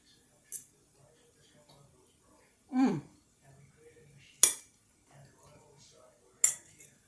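Cutlery clinks against a dish while palmini rice is eaten, a few sparse, sharp taps and clicks spaced apart, with a brief mouth noise in the middle, close up and otherwise quiet.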